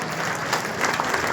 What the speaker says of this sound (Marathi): मातोश्री आईसाठी एकदा जोरदार टाळ्या